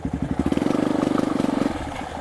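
A motorcycle on a forest trail, stuck while the rider tries to back it out, gives a close, loud engine note with a rapid pulsing chug that rises briefly and then eases back toward idle, with no talk over it.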